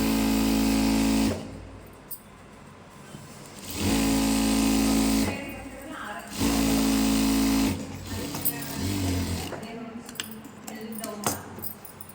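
Sewing machine stitching cloth for a pair of narrow trousers with pockets, running in three loud bursts of a few seconds each separated by quieter handling noise, with a steady motor hum and no talk.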